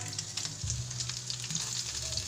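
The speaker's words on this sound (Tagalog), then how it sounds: "Magpiprito tayo sa amon sudan." Split longganisa sausage fries in a pan with a soft, continuous sizzle and light crackle, fairly quiet and close, no voices.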